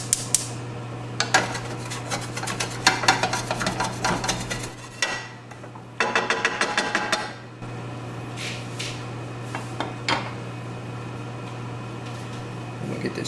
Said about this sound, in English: So I'm going to get a wooden spatula. See if I can loosen some of this up.